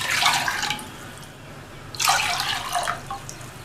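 Water poured from a cup into a cooking pot while making kolukattai, heard as two brief, close splashing pours separated by a short pause.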